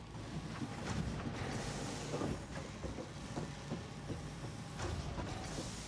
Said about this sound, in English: the first assembler should start working now